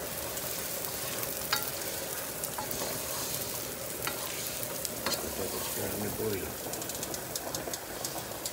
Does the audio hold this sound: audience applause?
no